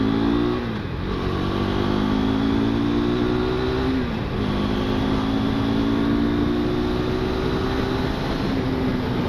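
A KTM RC 390 single-cylinder motorcycle accelerates through its gears, the engine pitch climbing in steps with short dips at each shift, loud and close over steady wind noise.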